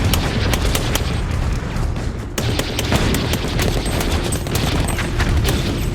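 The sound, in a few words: machine gun firing in short controlled bursts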